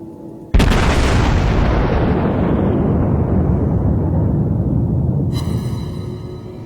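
Battleship main guns firing in the naval combat game World of Warships, one huge booming salvo that rolls on for several seconds before a metallic shimmer, loud and alone, no talking.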